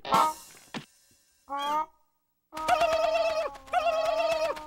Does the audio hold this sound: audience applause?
no